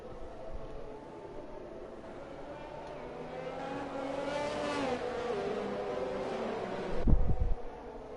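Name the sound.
race cars driving behind safety car in a racing video game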